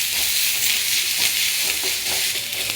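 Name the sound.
mustard seeds spluttering while tempering in a pan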